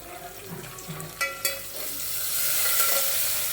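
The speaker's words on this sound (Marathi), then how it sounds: "मिरच्या आणि लसूण चांगला फ्राय झाला आहे" Asafoetida, chillies, curry leaves and garlic fry in oil, starting with a couple of sharp clatters as they go in, then settling into a sizzle that swells louder and steadier.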